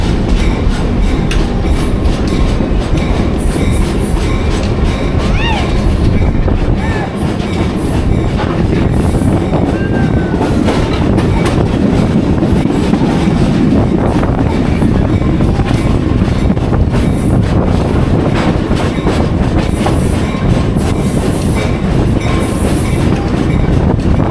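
A Black River & Western Railroad train rolls steadily along the track with continuous loud wheel and rail rumble and faint clickety-clack over about 24 seconds, heard from on board with no talk.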